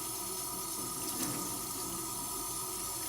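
Tap water runs steadily into a sink while oil paint brushes are washed with soap, a quiet continuous splashing hiss with no voices.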